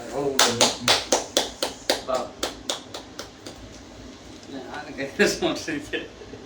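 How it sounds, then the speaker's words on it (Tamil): People clap their hands at a birthday celebration: a steady run of about a dozen sharp, evenly spaced claps that slows and fades, then a brief, looser burst of clapping near the end. "உடனே அதுதான் நம்ம கை தட்டு"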